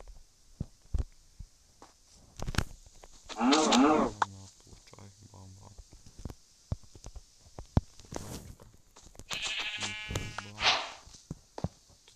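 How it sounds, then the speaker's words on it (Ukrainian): A synthetic cow moo sounds twice, separated by a long gap, over a quiet background with faint clicks and taps. "Там корова, я біжимо до неї."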